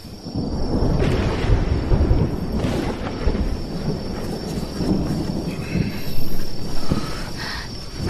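Thunder rolls through a scene in a historical palace drama, a deep, continuous rumble that stays loud for the whole stretch with no voices over it.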